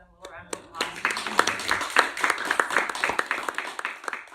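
Audience at an addiction seminar breaks into a round of applause, dense overlapping clapping building quickly and sustaining before tapering, close and lively.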